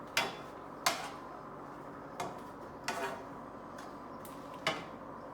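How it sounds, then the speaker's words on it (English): A spoon knocks against a pot while lamb shepherd's pie filling is stirred, giving a few sparse, clear clinks spaced a second or so apart over a quiet background. "I'm going to give those a little stir"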